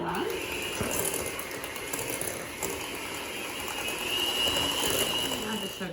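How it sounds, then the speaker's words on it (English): An electric hand mixer whirs steadily, beating ingredients in a bowl for cookie dough, with a continuous mechanical buzz and rattle that swells slightly toward the end. "I'm going to use a hand mixer for this."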